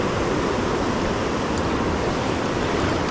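Ocean surf breaking along a beach where someone is surf fishing, a steady close wash of rushing water and foam that holds at even loudness throughout, with no voices.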